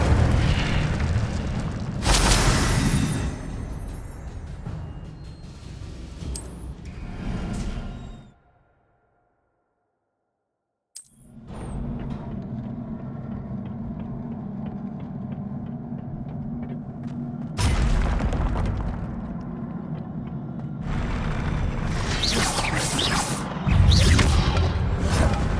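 Fire-spell explosions from the Hogwarts Legacy video game: loud, booming bursts and rumbling blasts that repeat across the stretch, broken by a sudden full silence in the middle before the effects resume.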